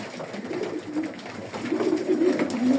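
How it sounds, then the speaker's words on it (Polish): Janssen-line racing pigeons coo in low, repeated throaty murmurs, close by and fairly loud, with soft rustling and background noise throughout. "czerwone lisy, czyli gołębie braci Jansen."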